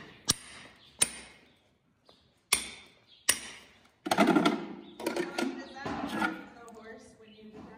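Four sharp metallic taps ring out one at a time with short pauses between them as a farrier's hammer knocks back horseshoe nail clinches, followed by a muffled voice speaking nearby.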